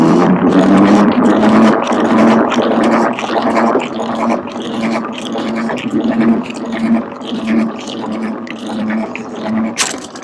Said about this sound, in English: Just like to give it a really good spin one way.